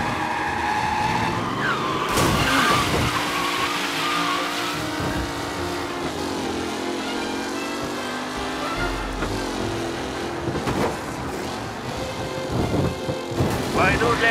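A car race in Mafia: Definitive Edition with engines roaring and tyres squealing in long skids, loud and continuous, with a commentator's voice running over the game sound.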